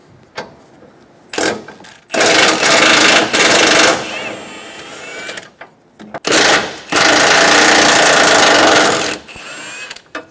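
A power tool spins out the three 15mm bolts from a bumper bracket on a 2014-2018 Chevrolet Silverado 1500, in two long, loud, close whirring bursts separated by short pauses and a few clicks.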